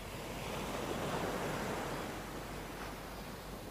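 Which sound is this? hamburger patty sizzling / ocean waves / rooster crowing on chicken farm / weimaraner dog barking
ocean waves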